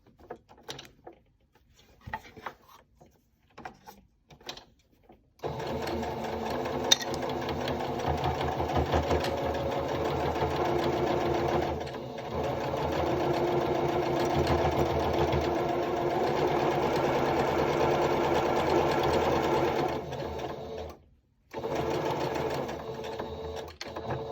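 An overlocker runs in a long steady burst, stitching elastic straps onto a cloth face mask, its fast mechanical whir loud and close after a few brief handling clicks, with one short pause near the end.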